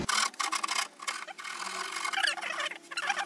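A round file works over the damaged spots of a wooden easel in uneven bursts of close, raspy scraping strokes, separated by short gaps.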